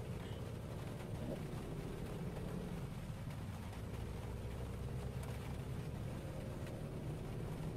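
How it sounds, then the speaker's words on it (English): Heavy rain falls steadily in Euro Truck Simulator 2 while a truck drives. A dense, even hiss of rain runs throughout over a low, continuous engine rumble. "You may have noticed it's raining a little bit heavier."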